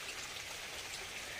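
Steady rain falls on a day of nonstop monsoon-season showers, a faint, even hiss of drops with no voices or other sounds.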